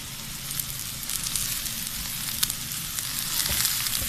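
Shredded cabbage, carrots and bell peppers fry in a pan with a steady, soft sizzle and faint crackles, quiet and close, with no talking.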